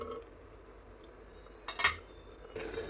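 A metal lid is set on a cooking pan of prawn thokku in a home kitchen, two brief clinks over quiet background hiss.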